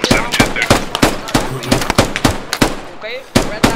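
Rapid, sharp shots in a Squad firefight come in a close, steady rhythm that sounds like automatic fire, loud and punchy, while someone shouts between the cracks.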